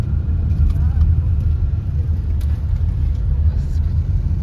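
A car cruising along a highway on a road trip near Shepsi, Russia, with a steady low road rumble and engine drone held throughout at an even, fairly loud level.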